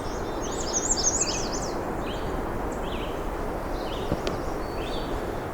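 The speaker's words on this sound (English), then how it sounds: "a red-eyed vireo." A red-eyed vireo sings short chirping phrases in white cedar woods, with the bird calls faint and somewhat distant over steady outdoor background noise.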